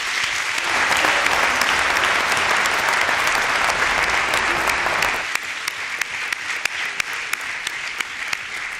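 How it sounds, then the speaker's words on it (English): Audience applause at an INSEAD MBA graduation ceremony, loud and dense for about five seconds, then thinning into scattered individual claps that continue to the end. "please help me give them all a very, very big round of applause"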